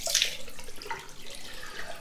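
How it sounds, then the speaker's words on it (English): Cold water running from a tap into a basin during a wet shave, a soft continuous splashing stream at moderate distance, with no talk. "I'm going to go on with some cold water"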